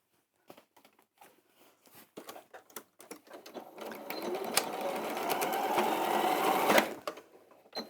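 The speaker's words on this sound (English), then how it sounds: "So I just need to re-sew that seam, trapping that in there with my seam allowance at the top." A sewing machine re-stitches a dress seam, starting with scattered single clicks and short bursts, then running steadily with a loud, close whirring hum for a few seconds before slowing back to isolated taps.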